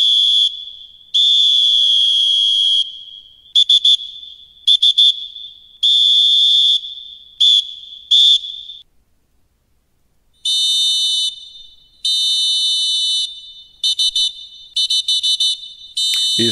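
Shrill referee whistle from the football video game PES 21 sounds alone in a series of blasts, some long and held, others short and clipped in quick bursts, separated by brief silences.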